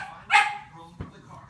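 A bulldog puppy lets out one sharp, high bark up close, followed by a brief softer thump-like sound and quiet room noise.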